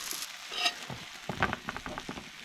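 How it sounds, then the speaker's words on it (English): Steaks and onions frying together in a pan at a cold winter campsite, a steady close sizzle with occasional scraping and stirring clicks and no voices. "move the onions to the side and put on our steaks"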